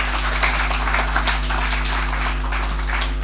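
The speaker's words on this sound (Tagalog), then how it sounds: "Isang pinakamalakas na palakpak sa Diyos." A church congregation claps and applauds together in a loud, dense burst of scattered hand claps that carries on steadily for a few seconds, close and without speech.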